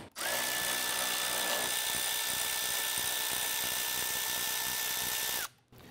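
A power tool whirs steadily at a high pitch for about five seconds, loosening and removing a 10mm bolt on a Jeep Grand Cherokee grille support, then stops abruptly.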